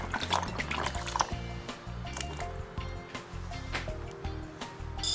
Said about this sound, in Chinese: 先用水将香菇表面的尘土冲掉